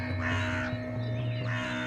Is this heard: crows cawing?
yes